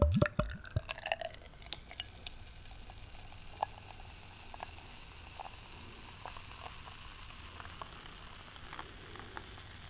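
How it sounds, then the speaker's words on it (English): Beer is poured into a glass: a few clinks and splashes at the start give way to a soft, steady fizzing hiss of bubbles, quiet and close. "Let's give it a pour."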